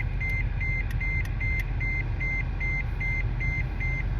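A steady series of high, evenly spaced electronic warning beeps from a car, repeating about three times a second over a low engine-like rumble.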